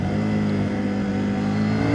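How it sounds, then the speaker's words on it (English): 2024 CFMOTO 800MT Sport motorcycle riding along with a steady, loud engine drone and wind noise, the pitch dipping briefly as it shifts gears without a clutch. "Clutchless shifting doable, but with a little delay."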